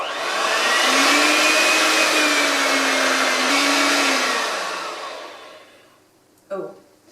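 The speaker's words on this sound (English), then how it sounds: "And now I'm going to whisk again." An electric whisk runs steadily through cake batter for about five seconds, loud and close, then winds down and stops, followed by a short knock against the bowl.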